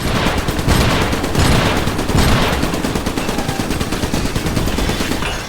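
Dense, continuous gunfire from the mech combat game Iron Brigade, rapid overlapping shots and bursts rolling loud and steady throughout with no pauses.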